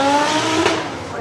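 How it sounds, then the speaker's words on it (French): A five-cylinder car engine roars past at high revs, loud and close, with a brief tire squeal and the sound fading slightly at the end. "Cette sonorité, elle est typique du 5 cylindres"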